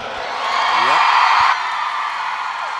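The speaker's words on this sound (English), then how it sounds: "Big cheer from the crowd." Crowd in an ice arena at a figure skating competition cheering and whooping as a team takes the ice, a sustained roar that swells for about a second before easing to a steady hum.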